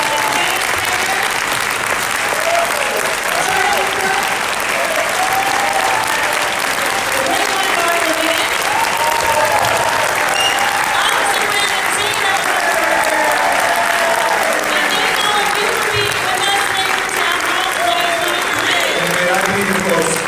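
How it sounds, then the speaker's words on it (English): A large town hall audience applauds in a long, steady round, dense and loud throughout, with voices and cheers mixed into the clapping. "Let's give it a big round of applause."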